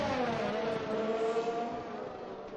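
Several Formula 1 cars racing close together in F1 2021 at the French circuit, their engines holding a steady, loud high-pitched whine with layered harmonic tones throughout.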